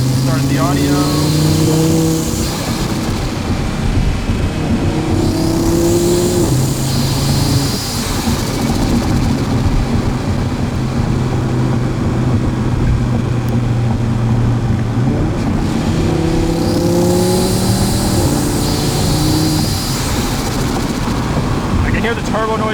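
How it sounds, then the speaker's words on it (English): Cabin of an Audi TT RS or RS3 with a CTS turbo intake under hard acceleration, engine note rising through gears with repeated climbs and shifts, loud and continuous, turbo whoosh and spool blended into the drone. "I can hear the turbo noises from in here."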